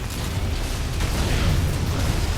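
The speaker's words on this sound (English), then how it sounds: "Secondary fire with the flak cannon." Flak cannon secondary fire in Unreal Tournament 3, a loud, dense burst of blast and crackle that fills the whole stretch with no gap, heard alone without talk.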